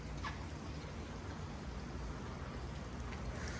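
Rain falls steadily just outside a stairwell, a soft, even hiss of drops with a few louder splashes, fairly faint and alone without talk.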